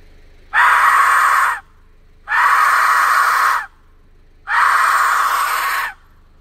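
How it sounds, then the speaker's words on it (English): An Aztec death whistle is blown three times, each blast a harsh, scream-like shriek lasting about a second, loud and close with brief silences between. "The Aztec death whistle. Used to be used in human ritual sacrifice and in warfare."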